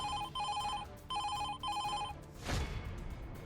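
Telephone bell ringing in four quick, regular electronic bursts, loud and close, followed by a whooshing sweep as it ends.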